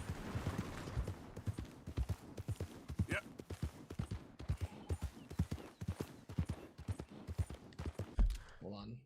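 Horse hooves in Red Dead Redemption 2 beat out a steady, rhythmic clip-clop while riding, loud and close, as someone speaks briefly over them.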